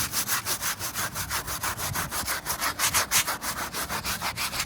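Fast rhythmic back-and-forth scrubbing on a car interior surface with a soapy scrubber, about five strokes a second, close and steady, with no talking.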